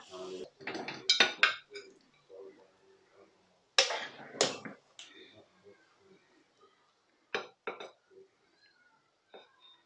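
A mutton and palak biryani is stirred in a pot, with metal spoon clinks and scrapes against the pan in short, uneven bursts separated by quiet gaps, and someone talking between the strokes.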